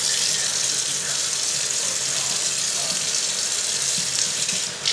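Tap water runs in a steady, loud, continuous stream while a brush is rinsed under it, with no pauses and no voices.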